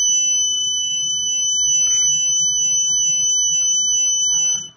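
A fingerprint access system's access-denied buzzer holds a steady, piercing electronic tone over a low background hum, with a couple of brief clicks along the way.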